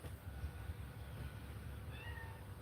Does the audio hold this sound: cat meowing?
yes